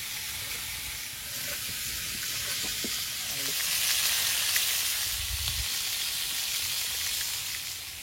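Fish fries in very hot oil, making a loud, even sizzle and hiss that swells slightly midway, with faint clinks in the background.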